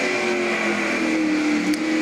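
A purple Ford-powered Mustang drag car launching down a dragstrip, its engine a steady, loud mid-pitched drone that holds briefly at a distance.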